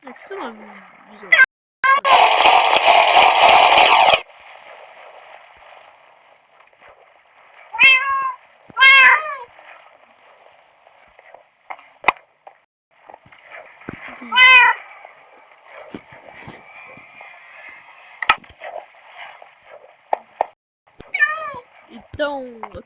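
Several cats meow in the Minecraft video game, a string of short tonal calls spread through the clip with gaps between them, alongside a loud burst of noise and clicks near the start.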